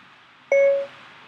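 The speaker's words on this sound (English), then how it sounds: "I clicked the microphone, I wait for it to beep" An iPhone running iOS 7 gives a single short, clean electronic beep as dictation starts from the microphone button, sounding clearly against near silence.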